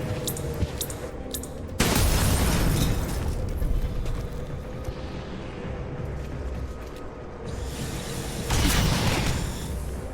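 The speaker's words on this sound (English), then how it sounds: "Grenade out." A grenade goes off in the tactical video game XCOM Chimera Squad, a heavy boom bursting out near two seconds in, then a rumbling roar that fades and swells again under a steady mechanical game ambience, with no voices.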